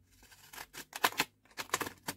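Decorative craft scissors snip paper in a quick series of soft, close cuts during December Daily scrapbooking.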